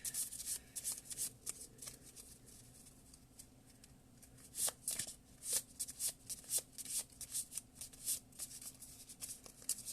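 A deck of tarot cards is shuffled quietly and up close during a card reading. Soft riffles and papery slaps repeat in uneven flurries, with no talking over them.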